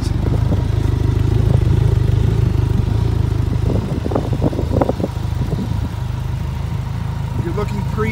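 A 2015 Kawasaki Concours motorcycle with an aftermarket exhaust runs close by, a steady loud engine rumble throughout with someone talking over it.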